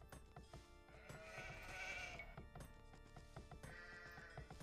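Sheep bleat repeatedly in the Age of Empires II strategy game, several wavering calls over clicks and game sounds, with no speech.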